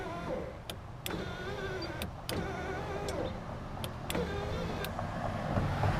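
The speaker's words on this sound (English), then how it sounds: "Here's how it looks right now. Like here's the window motor." An electric power window motor in a Dodge Dakota hums steadily, punctuated by several sharp clicks from a universal switch as the window runs up and down, close and fairly quiet.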